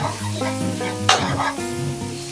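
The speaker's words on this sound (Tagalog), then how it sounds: "Next, add na natin yung ating ground pork." Raw ground pork hitting a hot pan with onions while cooking palabok, giving a steady sizzle and a sudden bright burst of frying as it lands, followed by stirring.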